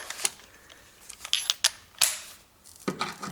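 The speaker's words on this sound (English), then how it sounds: "And now next I open this 10mm bolt." A socket on a long bar works at a 10mm bolt on a Toyota Corolla during front ABS sensor replacement, giving a series of sharp, close metallic clicks and ratchet snaps at irregular intervals.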